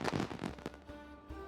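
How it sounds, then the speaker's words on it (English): Small celebratory fireworks in the strategy video game Civilization VII, marking a Wei Yang Palace moment: a rapid cluster of crackling pops and bursts in the first half, then fading into soft, quieter tones. "I like that they do little fireworks."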